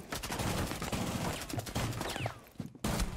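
Hip-fired gunshots in Rainbow Six Siege, heard as a rapid string of close, sharp shots with brief gaps and a sudden cutoff near the end.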